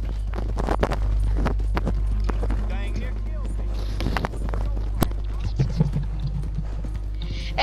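Horses galloping in the video game Red Dead Online, a rapid clip-clop of hooves running steadily throughout beneath a constant low game hum, with voices talking over it.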